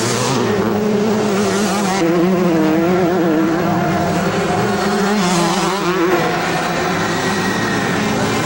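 Motocross bikes racing at the 1988 Motocross des Nations in France, with Kawasaki machines in the field: loud, close engine whines rising and falling in pitch as bikes pass, several overlapping, the roar continuing for the whole stretch.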